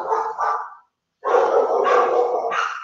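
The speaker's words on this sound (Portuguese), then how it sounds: "esse cachorro tão bravo hoje" An agitated dog barks loudly and close by, two quick barks, a short silence, then a longer burst of harsh barking that runs to the end.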